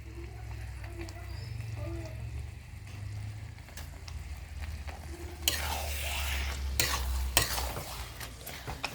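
Stirring jatilao with mati mahor bora, lentil fritters with sugar added, in a frying pan: a steady low sizzle that bursts into louder scraping, sputtering stir strokes midway, with a few sharp clanks of the spoon near the end.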